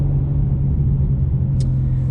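BMW M2 engine rumbling inside the cabin while cruising, a deep, steady, thumpy bass drone that holds evenly throughout with no voices.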